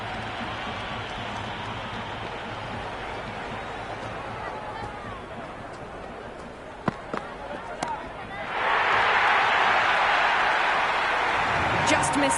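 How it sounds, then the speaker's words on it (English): At a Pakistan Super League cricket match between Quetta Gladiators and Islamabad United, a stadium crowd roars into a loud, sustained cheer after a six, rising sharply near the end over a background of commentary. "The crowd is electric right now."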